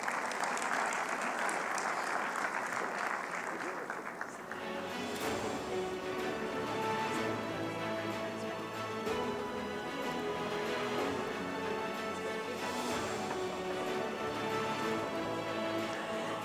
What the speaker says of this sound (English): let's have a big round of applause for our distinguished chief guest